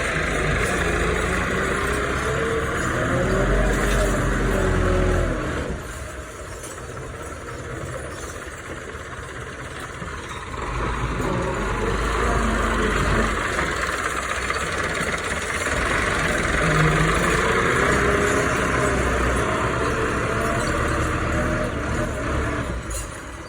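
A tractor engine runs steadily at a low, rumbling idle in a village setting, loud and continuous throughout with a slight shift in tone midway.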